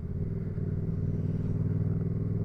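A car engine driving in third gear at low speed on London streets, a steady close mid-pitched drone that holds even throughout, with no talk over it.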